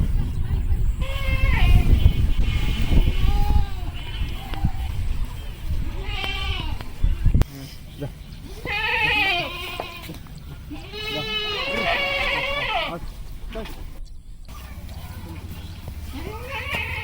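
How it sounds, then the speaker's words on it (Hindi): Goats bleat repeatedly on a grassy river char by the Padma in rural Bangladesh, several wavering calls near and mid-distance, some overlapping, over a rough outdoor background with a voice speaking early on. "ये हमारी बकरी है।"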